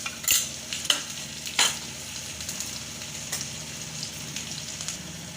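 A tempering of curry leaves, asafoetida and chopped green chillies hits hot oil in a few sharp crackling bursts near the start, then settles into a quieter, steady sizzle with light stirring clicks.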